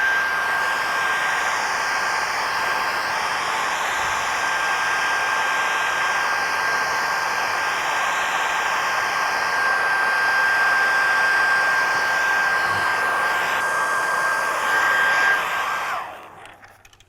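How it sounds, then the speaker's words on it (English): Hair dryer or heat gun blowing on Ford bucket seat upholstery, a loud steady whooshing hiss with a constant whine that runs unbroken for about fifteen seconds, then cuts off and fades. "one thing that you can try with a hair dryer or a heat gun"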